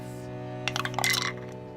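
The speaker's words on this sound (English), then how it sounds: "Here is the one dice tower into the microphone that we will do." Dice clatter down a dice tower in a short burst of bright rattling clicks and tumbles, fairly close, over a steady background hum.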